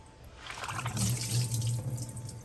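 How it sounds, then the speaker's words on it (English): Water pours steadily from a removable part of a Jura ENA 4 espresso machine as it is emptied during cleaning with cleaning tablets, a close, continuous splashing flow into a sink with no talking. "We got to pour this out."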